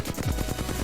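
Flatline rifle in Apex Legends firing full auto, a fast, even rattle of close, loud shots with no voices.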